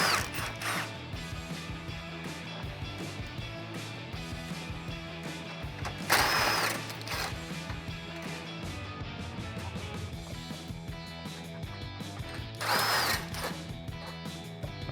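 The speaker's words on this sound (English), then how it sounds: "I'm going to use my extension and my 8mm socket to get them off." A socket on an extension working 8mm bolts off the plastic bumper trim of a 2004-2008 Ford F150: a steady mechanical whirring and ratcheting, with two louder, harsher bursts of tool noise standing out.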